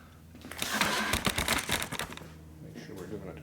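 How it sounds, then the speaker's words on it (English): A torque wrench works bolts on a Harley-Davidson twin cam engine in a 2004 FLHT touring bike, giving a quick run of dense mechanical clicks and ratcheting near the mic, with someone talking around it. "We'll bring out the official torque wrench here."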